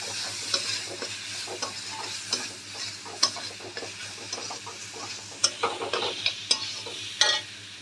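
Tawa pulao seasoned with Maggi masala tossed on a hot griddle: a constant frying sizzle under close, repeated scrapes and taps of a spatula, irregular but steady, with no one speaking.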